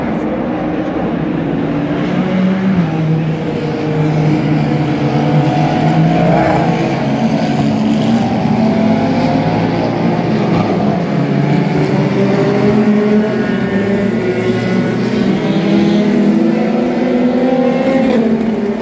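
WEC endurance race cars pass a corner at Spa-Francorchamps, a continuous loud engine roar that rises and falls as the cars go by, with no talking heard.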